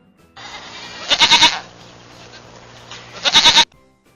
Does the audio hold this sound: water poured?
no